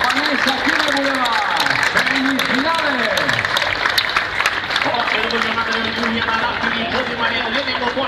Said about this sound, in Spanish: fuerte aplauso de todo el público